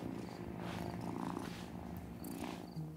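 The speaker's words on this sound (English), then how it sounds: "how could you resist purrs like that?" A cat purrs in the video game Wylde Flowers, a soft, steady rumbling purr that is close and quiet, with no voices over it.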